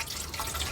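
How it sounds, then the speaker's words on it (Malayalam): A small splash of water is poured into a cooking mixture in a home kitchen, faint and brief, a soft trickle and drip with no voices. "ഒരു പൊടിക്ക് വെള്ളം ചേർക്കാം കേട്ടോ."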